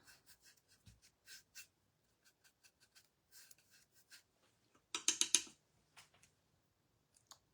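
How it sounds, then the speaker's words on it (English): A paintbrush drags over the raised wood-grain ridges of a gingerbread tissue box, giving soft, scattered scratchy strokes, close and quiet, with a brief louder rasping burst near the end. "You can hear the ridges on here, the wood grain. It is raised."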